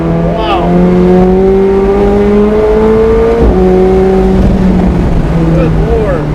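A McLaren 765LT Spider engine drones loud and close with a steady, rising pitch, as from inside the moving car, with people talking over it; no distinct backfire cracks stand out.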